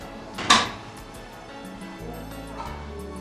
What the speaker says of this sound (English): The appropriate drawer is opened automatically, as well as the correct QB with the needed medication in it.